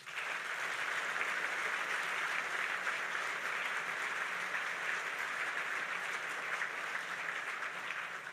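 Audience at the State of the Coast Guard address gives a long, even round of applause, a steady distant-sounding roar of many hands clapping with no speech over it.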